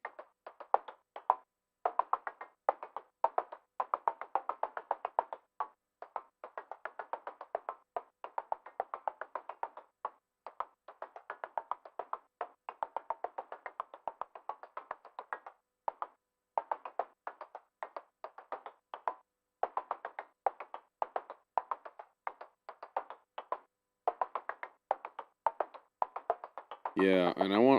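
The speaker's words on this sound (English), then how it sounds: "Like some kind of weird alien wood block kind of a thing." An Ekksperimental Sounds Ouroboros synth turns out a hollow, woody, alien-sounding block tone in dense, irregular clicks and knocks, quiet and steady throughout, with a brief brighter burst at the very end.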